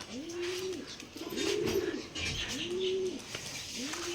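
Giribaz pigeons coo in a slow series of about four soft rolling calls, fairly close against quiet background noise.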